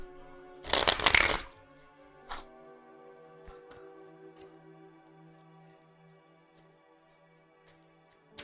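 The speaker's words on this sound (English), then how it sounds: "We're gonna shuffle these real quick." Playing cards being shuffled in a quick riffle burst near the start, loud and close, followed by faint handling noises and a quiet room.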